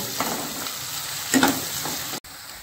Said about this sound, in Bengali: পেঁয়াজটাকে আমি হাই ফ্লেমে ভাজবো, ভালো করে ভেজে নেব।